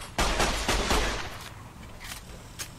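Gunfire in the video game Fallout New Vegas: a rapid burst of loud, close shots over the first second, then a few quieter, scattered reports trailing off.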